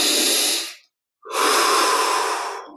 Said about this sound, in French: Voilà, 20 respirations profondes.